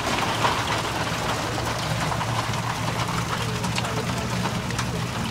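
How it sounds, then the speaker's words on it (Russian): Heavy rain with hail pours down in Switzerland as a dense, continuous hiss and patter with a low rumble underneath, loud and steady throughout. "на нас обрушился просто какой-то нереальный ливень, а затем и вовсе начался град"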